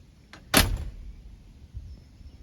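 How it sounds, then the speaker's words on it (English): A 1968 Mercury Marquis car door swings shut with one solid, close thud, preceded by a faint click and followed by a quiet low-level tail. "Doors close perfectly."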